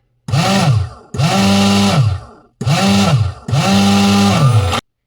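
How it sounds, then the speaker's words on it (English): A blower on a multipurpose 8-in-1 agricultural machine removes chaff from paddy, giving a loud, close motor whine that runs in four long bursts, rising and falling in pitch with short pauses between them. "And now it's time for a blower."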